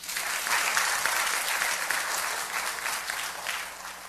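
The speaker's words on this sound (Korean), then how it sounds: "박수." An audience claps steadily through the whole stretch at a pastor's lecture, the dense, even applause holding loud and close with only slight swells and no voices on top.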